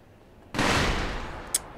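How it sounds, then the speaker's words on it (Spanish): Firecrackers in the video game Sekiro go off in a sudden loud blast that crackles and fades over about a second, followed by a sharp small pop. "Los putos petardos, tío, de verdad."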